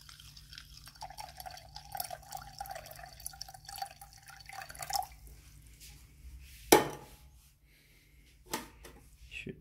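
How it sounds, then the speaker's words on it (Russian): Cold clean water, about 250 ml, goes into a rock-crushing sample container during a granite test, a faint trickle and drip with a sharp splash partway through, then quiet. "Мы заливаем 250 мл чистой холодной воды."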